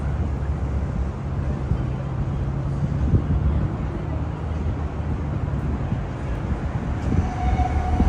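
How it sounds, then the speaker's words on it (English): A Shinkansen bullet train passes overhead near Tokyo Station, a loud continuous low rumble and roar that fills the whole stretch on an evening city street. "Shinkansen passing here on top of us. Probably just departing from Tokyo Station."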